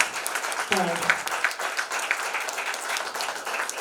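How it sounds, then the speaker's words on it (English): Applause from an audience at an inaugural ceremony of a centre of excellence, a dense steady patter of many hands clapping at moderate level, with a speaker's voice briefly cutting through near the start. "Big round of applause"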